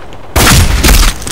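A sudden loud volley of gunfire from a PC shooter game bursts in and keeps rattling close and heavy for about a second.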